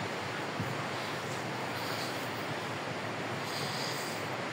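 The Tamakoshi river flowing near a riverside temple in Nepal, a steady broad rushing roar that holds evenly throughout with no voices.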